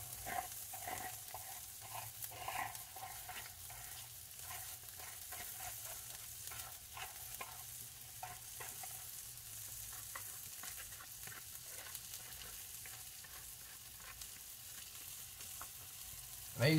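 Corn being stirred with seasoning in vegetable oil in a pan, a soft continuous sizzle with scattered scraping taps from the stirring, fairly quiet and without voices.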